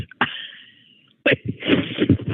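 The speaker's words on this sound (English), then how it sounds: "I immediately felt like I had to sneeze" A drawn-out inhaling whine builds up, then a sharp sneeze bursts out close by, followed by breathy noise and a muffled voice.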